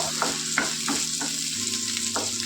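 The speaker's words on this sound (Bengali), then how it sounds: "পেঁয়াজ কুচিটাকে দিয়ে দেবো একটু নাড়াচাড়া দিয়ে নেবো" Chopped onion fries in oil and is stirred, a loud, close sizzle steady throughout, with rhythmic scraping strokes of the spatula against the pan and no voices.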